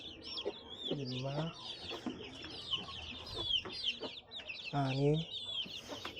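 Newly hatched chicks peep in high rapid chirps while a hen clucks low nearby, and a person counts aloud over them.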